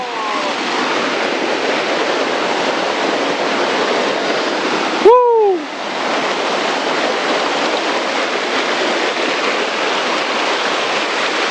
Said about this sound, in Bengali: এই সেই ঝর্ণা